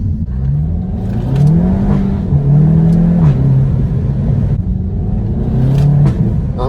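A Seat Leon Cupra 300 DSG hot hatch running its stock exhaust, the engine revving up and down in a steady, loud, close rumbling drone with rising and falling pitch swells and no talk over it.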